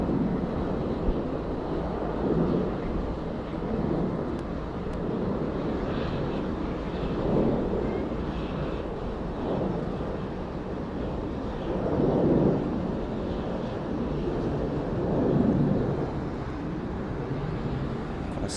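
A Virgin Australia Boeing 737-800 departing Sydney Airport, heard as a steady distant broadband jet roar with gentle swells, mixed with wind buffeting on the microphone.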